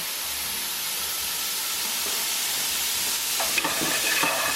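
Vegetables for a Thai curry sweat in a pan over gentle heat, giving a steady close sizzle and hiss, with a few scraping stirs near the end and no talking.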